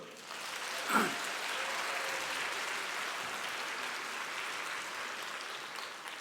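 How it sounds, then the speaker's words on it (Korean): Teachers at a church-school lecture give a steady round of encouraging applause, moderately loud and sustained throughout after a brief vocal sound at the start. "우리 서로를 위해서 격려의 박수 한번."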